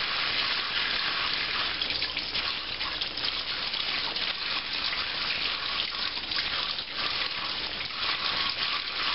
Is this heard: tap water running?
yes